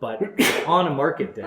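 A single sharp sneeze bursts out mid-sentence during a walking tour of a market area, set between stretches of a man's speech.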